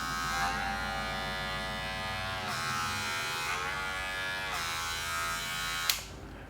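A Wahl hair clipper fitted with a Blur guard runs with a steady, close electric buzz, its pitch shifting a few times as it is handled, before a brief clack near the end.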